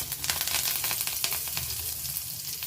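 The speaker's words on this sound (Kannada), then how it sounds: "ನಾನಿಲ್ಲಿ 2 ಹಸಿಮೆಣ್ಸಿನ್ಕಾಯಿ, ಕರ್ಬೇವಿನ ಸೊಪ್ಪು ಸ್ವಲ್ಪ ಹಾಕ್ಕೊತಾ ಇದ್ದೀನಿ" Green chillies and curry leaves sizzle and crackle steadily in hot frying oil, a dense close-up hiss with small pops throughout and no talking.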